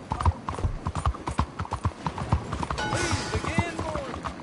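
Horse hooves clip-clop steadily and close in Red Dead Redemption 2, a brisk regular rhythm of hoofbeats with voices talking over them and a brief whinny near the end.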